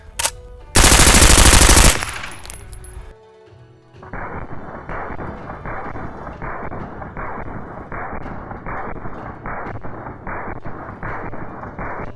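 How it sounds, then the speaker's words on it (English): A suppressed MP5 fires subsonic rounds in a long, steady automatic burst of rapid, evenly spaced muffled cracks, loud and close, after a brief loud blast at the start, with no talking. "what we are using is an MP5 with a suppressor, firing subsonics"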